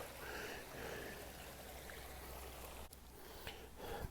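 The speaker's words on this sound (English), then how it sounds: "you'll get to hear the water flowing through this section of the trail" Stream water trickles and babbles quietly in a steady, soft flow along a Bernardo Mountain hiking trail, a gentle continuous sound heard up close in an otherwise calm outdoor setting.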